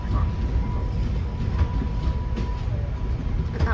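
A passenger train rolls steadily along its rails, a continuous near rumble with faint wheel clicks and a brief squeal, while people talk quietly in the car.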